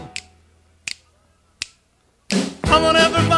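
Three crisp, evenly spaced finger snaps ring out alone at a steady tempo, followed by a burst of band music with singing.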